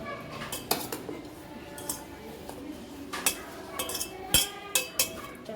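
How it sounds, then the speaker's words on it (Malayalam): A metal spoon clinks and scrapes in a bowl while mixing a french fries batter, with several sharp, close taps at irregular moments over a steady low background. "ഇനി കുഴയാൻ നമുക്ക് സ്പൂൺ ഉണ്ട്"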